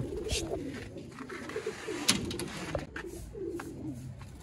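Flying pigeons coo softly and repeatedly nearby, low throaty warbles overlapping, with a sharp flutter or knock partway through.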